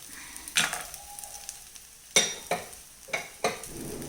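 A spoon scrapes and stirs through rava biryani with cashews in a pan in a few distinct strokes, with a soft sizzle underneath, close and fairly quiet.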